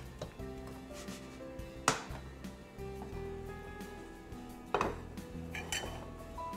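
A pancake slid from a pan onto a plate in a home kitchen, quiet clinks and a couple of sharper knocks of pan against dishes, alone without talk.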